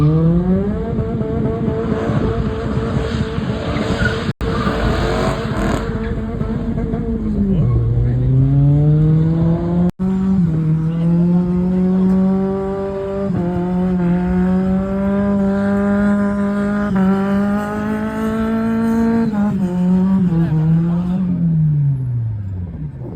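Cars spin donuts at a park-and-chill car meet, engines revving hard and holding high with pitch swings and sustained tire squeal, loud and close throughout, with faint voices in the background.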